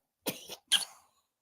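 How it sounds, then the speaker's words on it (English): Two short, harsh coughs in quick succession, close by and fairly quiet, with no talking. "You coughing in my face."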